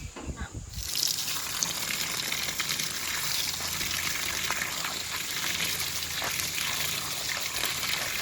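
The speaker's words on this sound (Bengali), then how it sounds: "শাকগুলোকে ভালো করে ধুয়ে নেব" Water spinach greens washed under running water, a steady close gush and splash that starts abruptly after a brief quiet moment and continues evenly for several seconds.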